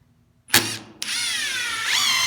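A power impact driver drives a screw on a metal table: a sharp loud burst, then after a pause a sustained ringing, metallic whine with rising hammering intensity near the end.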